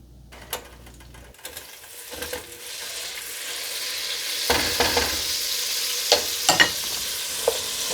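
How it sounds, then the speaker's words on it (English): Celery and carrots sautéing in melted butter in a pot, a steady close sizzle with scattered stirring clatters and scraping knocks building over several seconds. "So I melted my butter in the pot and I added the celery and the carrots"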